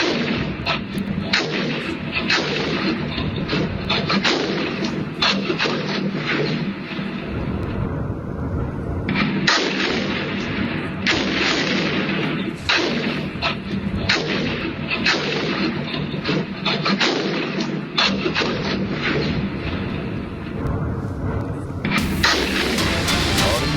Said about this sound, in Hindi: जोरदार धमाका और आवाज सुनिए